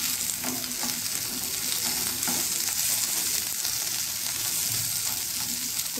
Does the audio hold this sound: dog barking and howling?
no